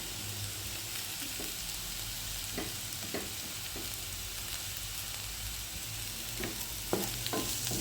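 Beetroot thoran cooking in a frying pan, with crushed coconut being stirred through the beetroot, giving a steady sizzle over the whole span with scattered soft scrapes and taps of the spoon against the pan.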